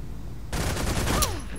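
Gunfire in the stealth video game Velvet Assassin: a sudden burst of close, loud shots breaks in after a quiet start and rattles on steadily to the end, with a brief whistling ricochet near the finish.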